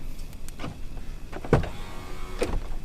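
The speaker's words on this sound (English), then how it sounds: "Power steps. So helpful." Power running boards on a Shelby Baja Raptor truck deploying as the doors open: a soft electric motor whir with sharp mechanical clunks near 1.5 and 2.4 seconds, close by, with no talk.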